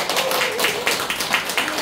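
An audience at an indoor seminar breaks into a brief burst of clapping, a dense patter of hand claps that stays close and steady for a moment.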